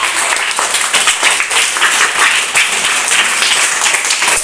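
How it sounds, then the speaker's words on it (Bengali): A crowd gives loud, sustained applause, many hands clapping at once in a dense, continuous burst. "হাততালি।"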